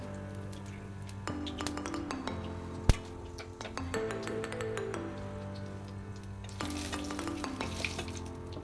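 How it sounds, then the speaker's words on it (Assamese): Dried chillies sizzle steadily in oil in a pan while a utensil stirs and clinks against metal, with one sharp knock partway through. "জলকীয়াকেইটা অকণমান ক'লা হোৱালৈকে ভাজিব"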